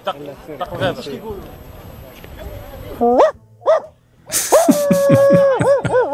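A dog guarding a tent in the Moroccan countryside gives several sharp barks and a few whining yelps, fairly close. Someone talks over the first half of the sound.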